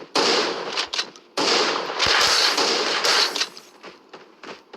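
Gunfire in the video game Fortnite, quick bursts of sharp cracking shots in close succession with brief pauses between, loud and near.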